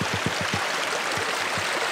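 A snowmelt mountain stream on the Colorado Trail flows steadily nearby, a continuous bright rushing and splashing with faint low gurgles and no voices.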